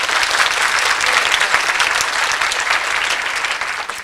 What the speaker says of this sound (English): So just a round of applause for our panelists